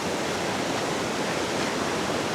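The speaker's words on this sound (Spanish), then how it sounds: "vean qué belleza de río" Turquoise river in the Costa Rican forest near old ruins, steady loud rushing water filling the whole moment with no voices.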